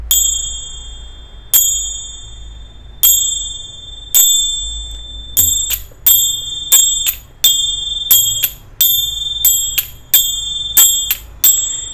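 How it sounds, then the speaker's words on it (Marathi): Small taal hand cymbals with a thin, high, bright tone are struck repeatedly, each clear ring decaying briefly; strikes start spaced apart and then come quicker and steadier, loud and close with no talk. "ही जी टाळ आहे हिला थोडी कमी आस आहे आणि ही अतिशय बारीक आवाज आहे"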